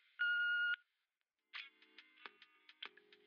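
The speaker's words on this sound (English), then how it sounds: "please leave a message after the beep." Answering machine beep before a message: a single steady electronic tone about half a second long, followed after a pause by the caller beginning to speak.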